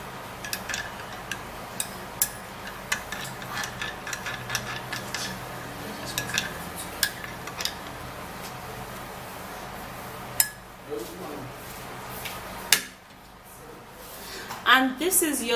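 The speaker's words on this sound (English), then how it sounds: "you stir it, because if you don't stir it, the honey is just going to sit at the bottom" A spoon stirs honey into tea in a cup, giving a quick run of light clinks and taps against the sides under steady speech, then a brief louder scrape and rattle near the end.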